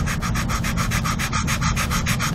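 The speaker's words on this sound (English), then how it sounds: "This is 80 grit sandpaper. I'm just going to kind of work it on the line" 80 grit sandpaper rubbed back and forth on a vertical stabilizer part in a steady rhythm of loud, close, rasping strokes with no voices.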